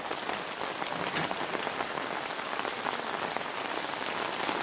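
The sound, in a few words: rain falling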